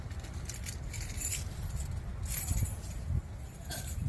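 Keys jangle and clink in short bursts close by, handled while people move about outdoors during a home sweet potato harvest.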